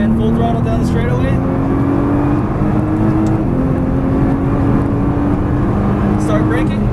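A Nissan GT-R engine at full throttle down a race track straightaway, a loud sustained roar with a rising engine tone, heard from inside the car alongside a steady drone.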